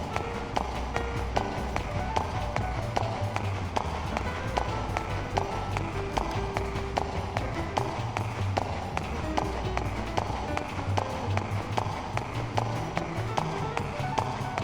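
Brisk, evenly paced footsteps in the video game Xenosaga Episode III, a steady run of light taps layered over continuous game music.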